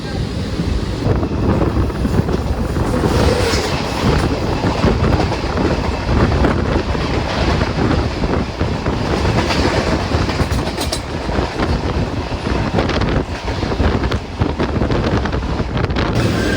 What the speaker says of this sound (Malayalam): തൂത്തുക്കുടി പാലക്കാട് പാലരുവി എക്സ്പ്രസ്സിനെ നമ്മൾ ഇരിങ്ങാലക്കുട വെച്ച് ഓവർടേക്ക് അടിക്കുകയാണ്